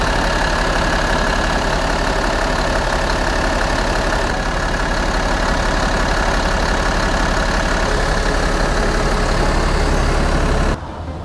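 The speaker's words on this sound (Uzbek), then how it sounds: "Bartavoyimizning motori Euro 5 standartiga ega bo'lib, 240 ot kuchiga ega va turbo kompressor o'rnatilgan." A Shacman L3000 18-ton flatbed truck with a 240-horsepower Euro 5 turbocharged engine runs at a steady, loud, close rumble. Near the end the sound drops off abruptly.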